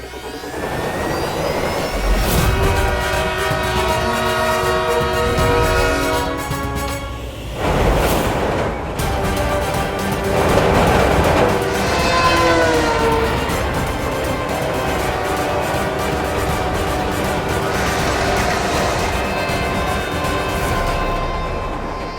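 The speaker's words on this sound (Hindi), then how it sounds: "कहीं ट्रेन ने बालवीर को कुचल दिया तो?" A train passing with its horn sounding, a loud roaring rumble with sustained tonal blasts layered over it, swelling in several surges over about twenty seconds.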